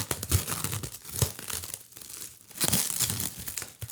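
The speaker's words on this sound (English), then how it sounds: "Let's go ahead and unwrap this." Plastic packaging crinkles and tears close up as a limited edition Anakin Skywalker Revenge of the Sith lightsaber is unwrapped, in bursts of loud crumpling with short pauses between.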